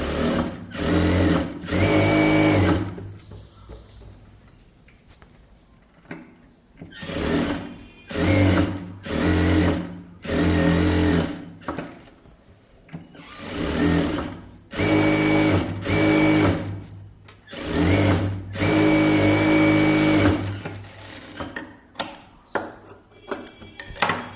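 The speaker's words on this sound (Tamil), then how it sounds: "ஓர தையல், அதாவது எஜ்ஜு தையல் போட்டுக்கோங்க." A sewing machine runs an edge seam along a blouse in repeated bursts of fast, loud whirring stitching, separated by short pauses and quieter handling sounds.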